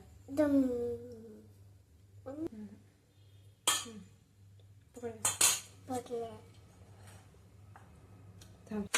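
A spoon works curd into puffed rice in a metal bowl, producing sharp clinks and scrapes in irregular bursts, close and moderately loud, while a person talks between them.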